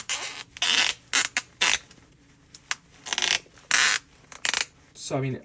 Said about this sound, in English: I noticed how absolutely creaky these joints are